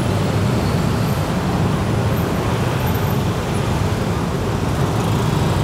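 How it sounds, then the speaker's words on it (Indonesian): A traffic jam on a Jakarta street near the LRT Velodrome–Manggarai works gives a loud, continuous roar of idling and creeping cars, buses and motorbikes close by, with no pauses. "Sini bisa kita lihat semuanya macet banget ya."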